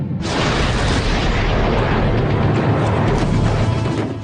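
A loud, continuous rumbling blast of artillery shells exploding in high Himalayan mountains fills the clip, a dense roar of explosion with no voices, close and heavy throughout.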